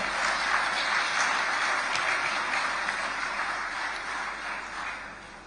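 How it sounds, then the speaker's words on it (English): Sustained, loud crowd applause for sponsors at a port management council meeting, a steady dense wash of clapping throughout that eases slightly toward the end. "Now can we give all of our sponsors a resounding applause for all of them?"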